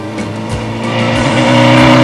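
A steady motorcycle engine drones close by, its pitch climbing slightly over a couple of seconds.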